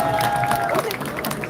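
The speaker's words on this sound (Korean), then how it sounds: "큰 박수로 맞이해 주십시오." Audience at a campaign rally in Incheon claps and cheers in a steady, continuous wash of applause, with crowd noise throughout.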